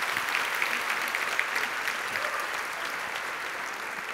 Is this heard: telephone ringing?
no